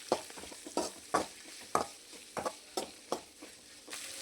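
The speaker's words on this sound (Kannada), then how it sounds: "ಈಗ ಇದನ್ನು ಚೆನ್ನಾಗಿ ನಾನು ಸ್ವಲ್ಪ ಫ್ರೈ ಮಾಡ್ಕೊಳ್ತೀನಿ." Onions and curry leaves fry in a pan for mushroom curry, with a spoon scraping and stirring in roughly regular strokes over a soft, steady sizzle, close and fairly quiet.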